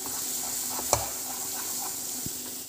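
Sweet potato halwa with ghee and cardamom stirred in a pan, a steady soft hiss running throughout with one sharp scrape of the spoon near the start and a faint knock later, no talking.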